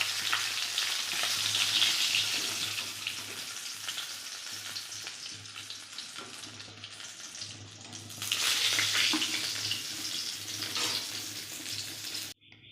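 Fish frying in hot oil in a pan, a loud continuous close sizzle that swells and eases, then surges again midway before cutting off abruptly, with no voices.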